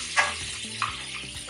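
Butter melting and sizzling in a hot saucepan, a steady crackle with a couple of brief louder spits, close by.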